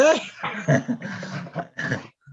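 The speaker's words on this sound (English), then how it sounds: "dog has something to say" A dog whines and vocalizes in a short burst of grumbling, moaning sounds near the microphone during a zoning board meeting, with a brief pause before a last faint note.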